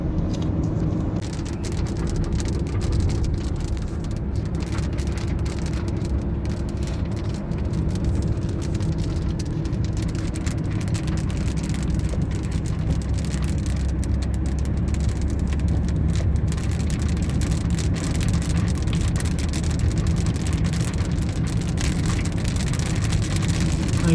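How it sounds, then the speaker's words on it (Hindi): Rain falls steadily in Afif, Riyadh, a continuous broadband patter and hiss with a low rumble underneath, unbroken from start to finish. "सब देखो बारिश"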